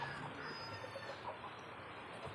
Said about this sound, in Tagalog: Tingnan natin ang mga kamanukan, mga alagang manok.